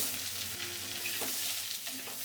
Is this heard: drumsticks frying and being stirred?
yes